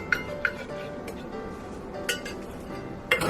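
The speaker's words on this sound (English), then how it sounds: "I'm going to stir in my lye solution" Soap batter being stirred after lye solution is added: light clinks and ticks of a utensil against a container, sparse and close, over a faint steady background.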